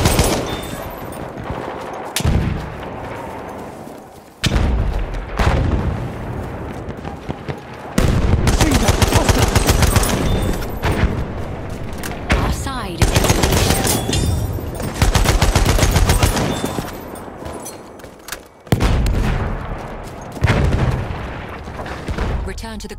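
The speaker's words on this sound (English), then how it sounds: "Enemy machine gun!" Battlefield 1 Team Deathmatch on the Nivelle Nights map: sustained bursts of close, loud machine gun fire and gunshots with booming explosions, broken by short pauses, with voices calling out over the combat.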